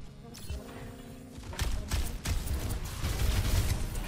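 Enemy gunfire aimed at Doomfist in Overwatch 2, a burst of rapid shots and impacts that starts after a quieter opening and continues densely to the end over game effects.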